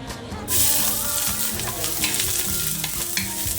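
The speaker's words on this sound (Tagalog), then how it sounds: "And sunod natin ang ating bawang at sibuyas na mainit ang ating oil." Garlic and onion fry in hot oil, a steady, loud sizzle that swells after a brief quieter start and keeps crackling with stirring throughout, no talking.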